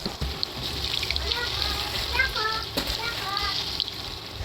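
Tofu frying in very hot oil in a pan, a steady soft sizzle running throughout beneath a voice talking.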